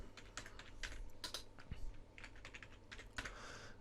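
Someone types on a computer keyboard, entering a name into a form: a quick, irregular run of soft key clicks with brief pauses, close and fairly quiet.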